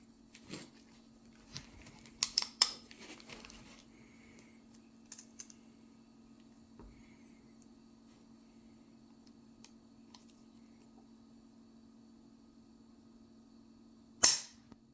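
Crisp dry-fire clicks from the trigger of a Kimber Rapide Dawn 1911 10mm pistol, a few sharp metallic snaps early on and one louder click near the end, close and isolated over a faint steady hum.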